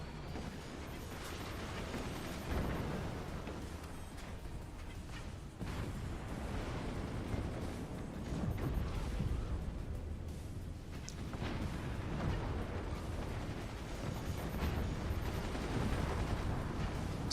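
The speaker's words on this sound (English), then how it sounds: "Nuke flies and lands." Nuke and mortar explosions in the Forts RTS game make a dense, continuous roar of rumbling blasts and crackling impacts, loud and unbroken throughout, with no voices.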